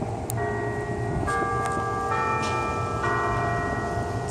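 Ferry Building clock tower bells in San Francisco chiming 2:30, several sustained tones struck one after another over a busy outdoor background hum.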